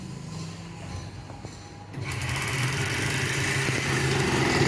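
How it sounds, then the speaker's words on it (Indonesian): A motorcycle engine runs in a workshop, first at a low idle hum, then revving up louder and holding a steady, buzzing drone near the listener. "Sekarang untuk putaran Motornya sudah hidup."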